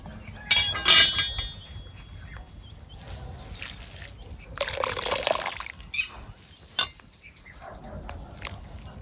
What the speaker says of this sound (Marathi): दोन तीन पाण्याने तरी ही भाजी आपल्याला धुवून घ्यावी लागणार आहे